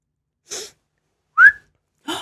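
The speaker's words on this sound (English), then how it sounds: "Can you whistle?" A person whistles one short, rising note, close and clear, set between two soft breathy puffs, with no talking.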